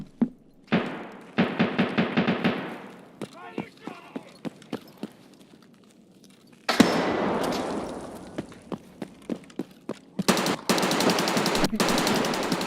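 Machine gun fire in a tactical shooter game rattles in rapid bursts, with close sustained automatic volleys, scattered single shots in between and long loud sprays near the end.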